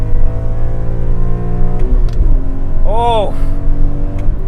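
A BMW M3 E46 engine pulls hard at around 4,500 rpm while driving at 40 mph, a loud steady harmonic drone rising through the gear, with a man's brief exclamation and a short whine over it.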